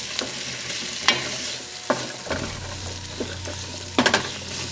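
Large chunks of ginger drop into a pot of carrot ginger soup with a few distinct clunks and splashy knocks, spaced irregularly over a low background hum, ending in a quick cluster of impacts.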